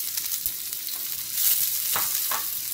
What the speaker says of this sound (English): and just stir fry that real quick.